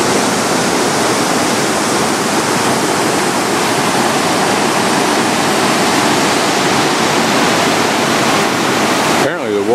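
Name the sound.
waterfall at Pailón del Diablo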